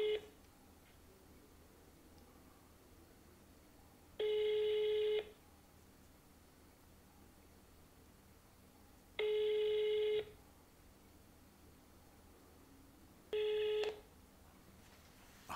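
Ringback tone from dialling a sales phone number: three long, steady electronic ringing bursts about five seconds apart, clear and fairly loud over a quiet room with no talking.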